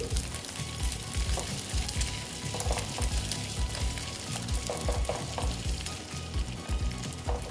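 Fish roe batter fries in hot oil, giving a dense, continuous sizzle and crackle at close range. Scattered stirring or scraping bursts rise through it, and no voices are heard.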